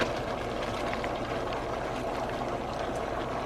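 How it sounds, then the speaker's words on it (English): Fresh broccoli boiling in a pan with a little water: a steady, faint bubbling and hissing simmer that stays even throughout, with no talking. "Then for 1 minute I will boil my broccoli"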